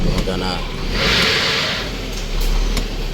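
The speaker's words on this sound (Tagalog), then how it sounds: "paandarin nyo ang makina. Paandarin, start." A car engine starts and settles into a steady idle with a brief rev, running under a voice giving instructions during a fuel gauge check.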